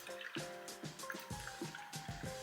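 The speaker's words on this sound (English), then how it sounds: "so let's pour in some aloe vera juice." Aloe vera juice poured into a spray bottle, a close liquid trickle and glugging fill with small drips, steady for a couple of seconds with no talking.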